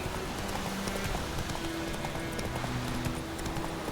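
Horse hooves clip-clopping in a quick steady rhythm as a rider gallops along in The Witcher 3, close and continuous over a dense game background with no talking.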